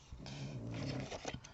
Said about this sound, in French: cette chienne, je vous jure, elle est fatiguée de rien.